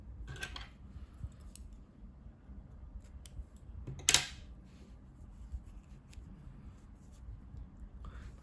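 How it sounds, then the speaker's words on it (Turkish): Scissors cut crochet yarn after a daisy motif for a baby skirt is finished, giving a couple of brief, soft snips close by in an otherwise quiet room. "İpliği kesiyorum."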